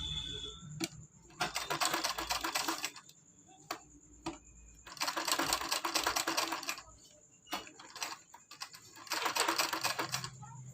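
A sewing machine stitches a round sleeve in three bursts of rapid mechanical clatter separated by short pauses and a few isolated ticks, heard close and fairly quiet.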